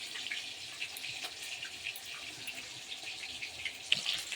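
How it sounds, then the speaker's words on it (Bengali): Water poured into a pan of spiced fish curry, a faint hissing trickle with soft splashes and a brief louder spatter near the end. "এবার এরকম করে জল দিয়ে উপর থেকে জলটা শুধু মাছের ঝালে দিয়ে দেবো"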